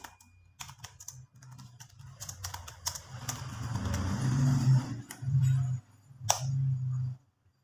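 Keys click on a computer keyboard in scattered, irregular bursts of taps, with a low steady hum underneath and a brief pause before the last few presses.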